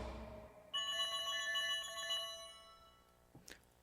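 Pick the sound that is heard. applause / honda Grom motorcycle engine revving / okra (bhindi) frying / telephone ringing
telephone ringing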